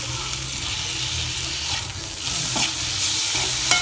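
Chopped tomatoes sautéing and being stirred in a pan while rasam is being made, a steady close sizzle with scraping stir sounds running throughout, without talk.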